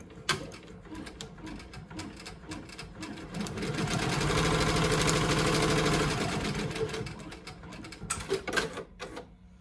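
A Ricoma EM1010 embroidery machine stitches an in-the-hoop Santa hand sanitizer holder design, a steady rapid mechanical whirring and clatter that swells louder through the middle, close and continuous with no talk.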